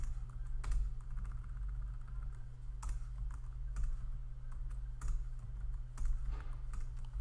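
Java code is typed on a computer keyboard in a steady stream of soft, close key clicks with occasional sharper taps, running over a constant low electrical hum, with nobody speaking.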